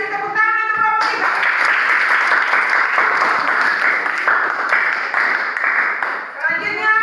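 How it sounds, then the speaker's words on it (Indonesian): Classroom students applauding a presenting group: a loud, sustained burst of clapping for several seconds, close by, with a voice speaking just before and after. "tepuk tangan untuk kelompok 3"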